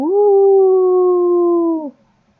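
A clean, loud, steady howling "woo" sounds from a storybook, holding one even tone for nearly two seconds before dropping away abruptly, with no background behind it.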